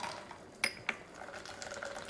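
A cranberry vodka cocktail with triple sec and lime pours from a shaker, a faint liquid trickle with two small clinks near the start, quiet and close with no voices.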